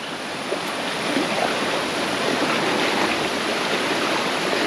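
Anayadikuthu waterfall in Thodupuzha, Kerala, roaring as a steady, dense rush of falling water close by, continuous and loud with no voices.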